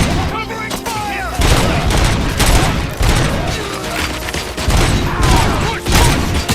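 Dense, loud gunfire from the video game RoboCop: Rogue City rolls through rapid overlapping bursts and booming volleys with barely a pause, while voices shout faintly underneath.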